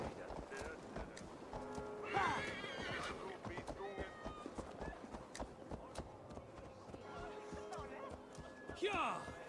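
A horse in Assassin's Creed Valhalla whinnies twice, loud and shrill, over a steady rapid clatter of galloping hooves that runs throughout, with game ambience underneath.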